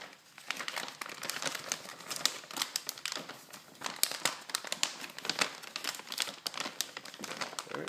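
A plastic bag crinkles and rustles steadily while being fitted inside another bag during long-term white rice storage prep, dense crackly handling noise close up with no talking.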